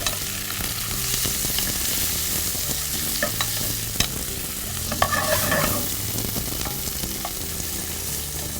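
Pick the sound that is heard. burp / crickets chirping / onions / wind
onions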